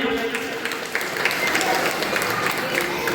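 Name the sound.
audience applause at Independence Day celebration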